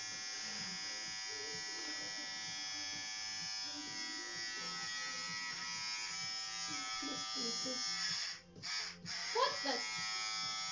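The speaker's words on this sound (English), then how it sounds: "It's a very cheap shaver, obviously." A cheap electric shaver shaving a head buzzes continuously near the microphone, a steady hum broken by brief dropouts near the end, while people talk and laugh over it.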